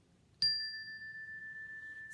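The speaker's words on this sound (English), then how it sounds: "I'll ring the bell and we'll get started with this practice of heartfulness" A meditation bell is struck once, a clear ringing tone that sustains and slowly fades over two seconds in a quiet room, with no talk.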